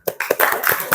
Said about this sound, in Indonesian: sekali lagi tepuk tangan dulu